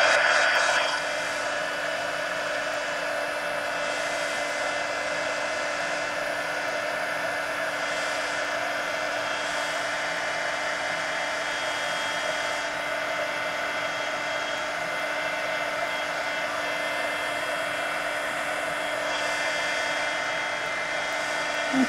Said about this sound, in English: let me go ahead and dry these. Let me get the heat gun around the camera here.